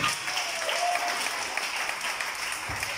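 A church congregation claps and applauds in a dense, even wash of hand claps, steady throughout, slightly distant and reverberant, with no talking over it.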